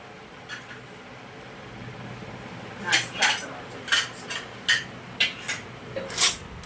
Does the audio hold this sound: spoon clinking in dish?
yes